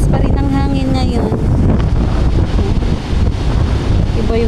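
A strong seaside wind roars and buffets the microphone during stormy weather, with surf churning underneath. A voice talks briefly over the loud, continuous gusting at the start.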